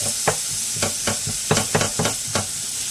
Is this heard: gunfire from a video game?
no